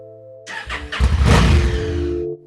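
A vehicle engine on a ride along Rambla Pacifico in Malibu starts with a short crank, then roars loud and close in a rising rev for about two seconds before cutting off.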